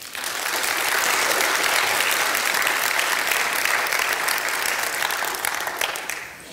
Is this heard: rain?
no